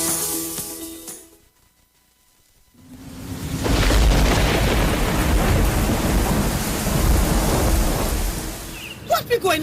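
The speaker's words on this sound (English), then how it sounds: "That storm was real bad." A thunderstorm breaks with a brief lull, then a heavy rumble of thunder over pouring rain that hammers on surfaces, loud and close, with a few sharp knocks near the end.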